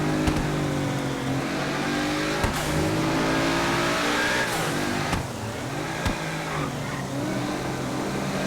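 Car traffic in the city streets of the video game GTA V, engines revving and accelerating close by with pitch sweeps as vehicles speed up and pass, a few sharp knocks, continuous and without voices.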